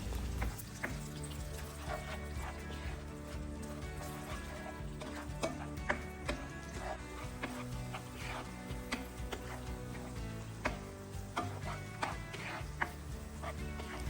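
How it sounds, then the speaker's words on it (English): Chopped onions frying in oil in a pan for a shrimp dish, a quiet crackling sizzle with scattered ticks and pops, while soft music plays underneath. "I'm going to add some chopped onions and I'll fry this for about 2 to 3 minutes until the onions are soft, fragrant and translucent"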